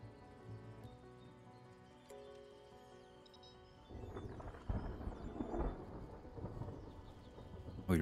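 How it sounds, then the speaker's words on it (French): A thunderstorm builds in the video game Stranded: Alien Dawn, with a faint game music bed giving way to low rolling thunder rumbles and rain hiss that grow louder toward the end, without speech. "Oh, il va y avoir un orage."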